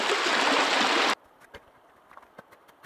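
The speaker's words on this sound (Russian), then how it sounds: "Вот как стекает эта плотина." Water pouring down over a beaver dam on a small river, a loud steady rush that cuts off abruptly after about a second, leaving faint scattered ticks and splashes.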